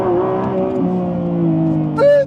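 An electric car accelerates hard with the pedal floored, a rising and falling motor whine with tonal layers sustained loudly close by, and a voice exclaims briefly near the end.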